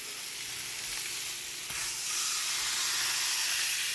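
Two large AAA ribeye steaks sizzle loudly in a crowded frying pan, a steady dense hiss of searing fat and moisture that swells slightly louder midway, with no talking over it.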